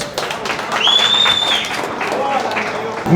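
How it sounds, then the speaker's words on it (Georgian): Spectators at a GAMA sparring combat event applaud the fighters at the ring: loud, scattered clapping mixed with shouting voices and a sharp whistle-like tone, with a thud at the very end. "აპლოდისმენტები ბიჭებს."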